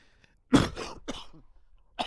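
Several harsh, phlegmy coughs from a person with a lingering chest cold, a loud burst followed by two or three shorter hacks and a final cough, close to the microphone with no talking.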